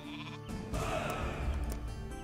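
Sheep bleat faintly in the strategy video game Northgard, a soft, wavering bleat over quiet background game sounds.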